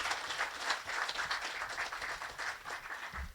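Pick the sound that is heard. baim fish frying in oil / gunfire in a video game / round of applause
round of applause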